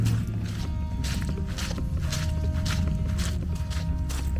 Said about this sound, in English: I wonder if you'll be able to hear how squishy the yard is. See if you can hear my footsteps.